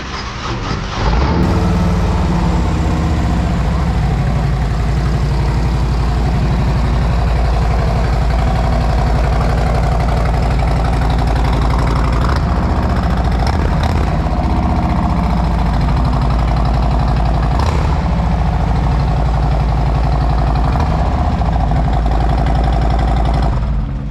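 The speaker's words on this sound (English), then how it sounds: "that's a 114 dual exhaust and the big tab muffler" A motorcycle with a 114 engine, dual exhaust and big tab muffler idles loudly and steadily up close, with a deep, lumpy rumble that barely changes over the whole stretch.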